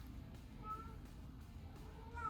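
A cat meows from outside, wanting to come in: two faint, drawn-out meows heard somewhat distant over a low indoor hum.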